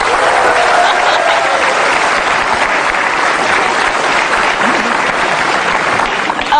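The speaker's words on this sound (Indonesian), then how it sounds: "Sekali lagi dong tepuk tangannya." Studio audience applause on an Indonesian television talk show honouring a city mayor, a loud, dense wash of many clapping hands sustained evenly throughout.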